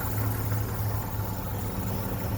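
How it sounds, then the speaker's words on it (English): A 1937 International Harvester truck engine runs at a steady idle, a continuous low rumble with a faint whirr from the fan or water pump, recorded close up with no talking. "the engine itself sounds wonderful"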